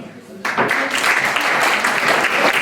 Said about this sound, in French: tous ces gens-là méritent de véritables applaudissements